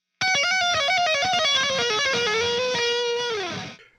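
A fast electric guitar lick, with rapid tapped notes and arpeggios in a quick flurry that slides down and rings out alone before cutting off.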